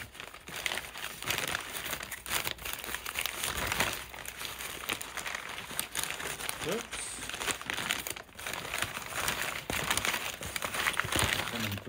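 Chip shop chips wrapped in paper, the wrapping crinkling and rustling steadily and close up throughout, with someone talking over it.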